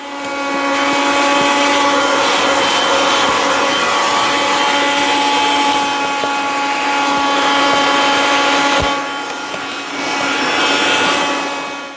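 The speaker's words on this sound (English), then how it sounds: "So for this one, I'm going to vacuum" A vacuum cleaner drones steadily while cleaning a car interior, a loud continuous motor whine with a brief dip near the end and no talking.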